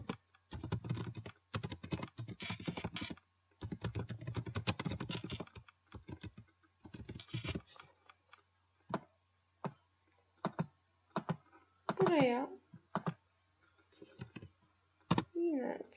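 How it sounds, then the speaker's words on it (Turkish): Typing on a computer keyboard in close, rapid bursts of clicking keys with short pauses between runs, along with a few separate clicks and brief faint sounds toward the end. "Buraya sadece kısa bir yazı yazıyorum."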